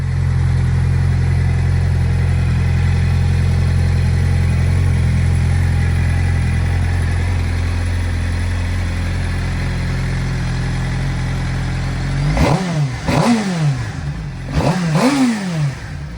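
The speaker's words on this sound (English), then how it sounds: "So I'm going to go start the motorcycle" A motorcycle that sat unused all winter idles with a steady, loud low throb for about twelve seconds, then revs up sharply in three or four rising bursts.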